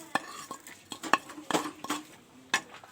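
Besan, potato, coriander and dry ingredients are stirred together in a bowl, a spoon scraping and clinking against the sides in irregular close strokes, with no talking.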